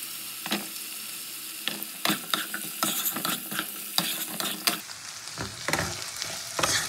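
Potato pieces stirred in hot oil left from frying bhetki fish, with steady sizzling and repeated scraping stir strokes close up, no talk.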